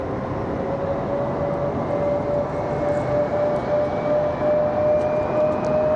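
A CRJ regional jet spools up its engines below an airport vantage point, a steady broadband roar with a rising whine tone held throughout, loud and close with no talk.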